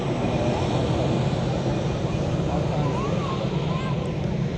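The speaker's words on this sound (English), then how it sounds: "there's the Emirates A380 from Dubai. Landed and come past us." An Emirates Airbus A380 in from Dubai rolls past after landing at Manchester, a broad, steady jet roar that stays loud and constant throughout, with wind noise against the microphone.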